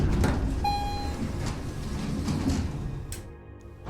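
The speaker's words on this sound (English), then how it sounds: "And eventually, the doors open back up." Sliding doors of a glass tube elevator opening after a key card swipe, a short electronic tone followed by a low mechanical rumble and a soft gliding whoosh, moderately close with no talking.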